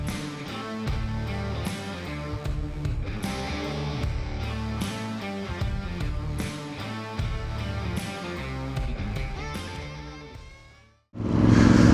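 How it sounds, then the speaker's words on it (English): A Voge DS625X motorcycle, repaired after crash damage, rides along a road with a steady engine drone that rises and falls through gear changes, loud and close throughout; a gust of wind noise takes over at the very end. "the bike is ready for a road test"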